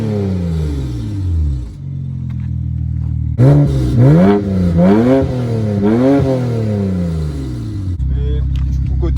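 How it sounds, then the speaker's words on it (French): A BMW 335i with its twin-turbo N54 inline-six cranks, fires up and settles into a low idle, then gets several sharp revs that rise and fall before dropping back to idle, with voices talking over it. "les gars je vais démarrer la voiture"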